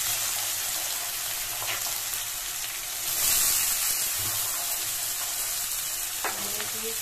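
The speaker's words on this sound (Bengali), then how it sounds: "তেলটা গরম হয়ে গেছে, এখন আমি উচ্ছে আলুগুলো এর মধ্যে ছেড়ে দেব।" Bitter gourd and potatoes fry in hot oil with a steady, dense sizzle that swells briefly louder midway, with faint clatter of stirring underneath and no talking.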